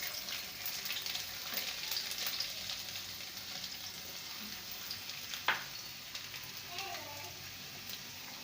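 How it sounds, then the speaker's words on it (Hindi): Garlic frying in hot oil in a pan for dhaba-style masala bhindi: a steady, fairly quiet sizzle with faint crackles throughout and one brief sharp tick partway, no talking. "ऑयल गरम करके हमने इसमें लहसुन डाला है,"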